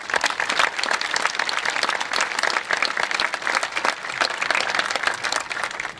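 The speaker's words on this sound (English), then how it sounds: "So please give them all a huge round of applause." A high school commencement crowd gives a huge round of applause for custodial, grounds and maintenance staff: steady, dense clapping from many hands, sustained and even throughout.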